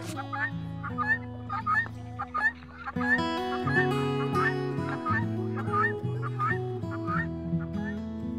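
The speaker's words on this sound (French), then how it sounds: "là, il y a les poulardes, puis les coqs" Bresse chickens, poulardes and roosters, cluck and call repeatedly over a steady droning background on a poultry farm, a busy flock heard fairly close without any talking.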